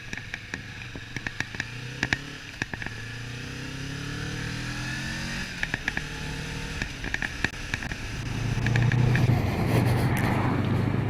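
A 2016 Kawasaki Vulcan S cruiser motorcycle rides along the road, its engine a steady drone with rising and falling pitch sweeps as it accelerates and shifts, with wind rush building loudly toward the end.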